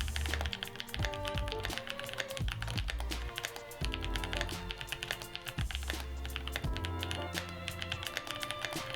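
Rapid, crisp keystrokes on a mechanical keyboard with hand-lubricated tactile switches and GMK keycaps, a dense stream of tactile clacks with occasional heavier thumps, close and alone.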